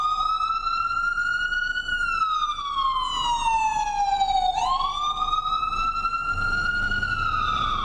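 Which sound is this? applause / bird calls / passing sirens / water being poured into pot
passing sirens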